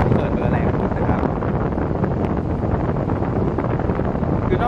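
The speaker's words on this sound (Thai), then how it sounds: "ลองมาฟังเสียงของพัดลมดูครับ" A JPX Super Turbo 20-inch electric fan with a plastic body and small blades runs at full speed close by, giving a loud, even rush of moving air with no rattling or knocking.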